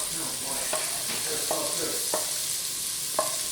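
Carrots and garlic hit a pan of softened celery and onions for a tomato rice soup, giving a steady soft sizzle of frying with a few scattered stirring clicks, heard close and fairly quiet with no voices.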